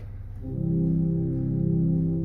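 A very deep organ note, low C of a 32-foot pedal stop on a grand pipe organ, swells in and rumbles steadily, heavy with low pulsing overtones, held for a couple of seconds.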